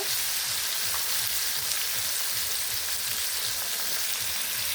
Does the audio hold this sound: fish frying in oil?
yes